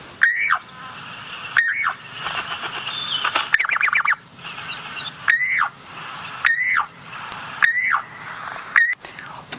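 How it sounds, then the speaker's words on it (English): A recorded Levaillant's cuckoo call plays from a phone bird app outdoors in the African bush, a regular series of about seven loud, sharp rising-and-falling squawked notes with brief chattering between, no talk. "I'm going to play you the Levalence cuckoo."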